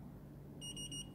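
A charging timer gives three quick, high electronic beeps in a short run, fairly faint over a low steady hum, with no talking.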